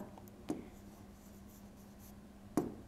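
A pen writes Arabic words by hand with a faint, soft scratch, broken by two sharp taps about two seconds apart over a low steady hum.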